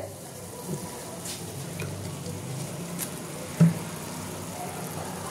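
Water boils in a pot for pasta with a soft, continuous bubbling and simmer, punctuated by a few faint clinks and one brief sharp tap, with no voices.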